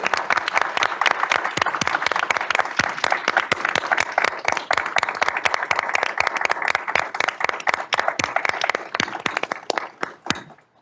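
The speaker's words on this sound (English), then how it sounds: "as we all applaud our wonderful panel" An audience at a political prisoners' day event applauds a panel, with steady, dense clapping filling the room before it tapers off at the end.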